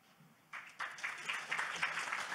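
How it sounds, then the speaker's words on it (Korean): Audience applause at an academic conference session on crypto-asset market trading, rising suddenly after a quiet moment and continuing as a steady, moderately loud clatter of clapping hands. "흥미로운 발표를 해주신 교수님께 다시 한번 큰 박수 부탁드립니다"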